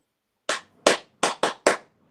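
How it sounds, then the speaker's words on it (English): Five sharp claps in a short burst at a live-streamed gathering, people clapping for themselves, loud and close with brief gaps between each clap, no talking over them. "Clap for yourself"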